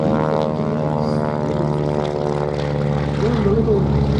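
Interwar propeller aircraft take off at the Duxford air show, a steady droning engine roar that stays loud throughout, under a commentator speaking over the public address.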